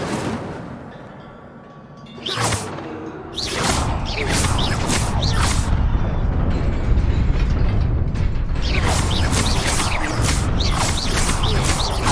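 Fire spell cast in Hogwarts Legacy, a loud whooshing burst of flame that swells partway in and then holds as a sustained roar with repeated crackling flares, no voices.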